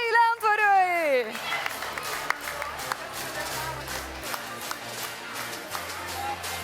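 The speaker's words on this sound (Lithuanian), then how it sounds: "Plojimai Lentvariui!" Applause from a quiz audience for the Lentvaris team, a steady crowd clapping that runs on for several seconds after a brief spoken call, with scattered sharper claps over a dense wash.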